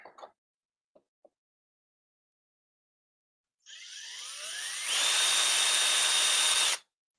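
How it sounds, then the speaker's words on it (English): A power drill loosening holes in an ant PCB maker frame, with a few faint taps, then a loud steady whine that rises in pitch and holds before stopping abruptly. "Now I'm just going to use my power drill."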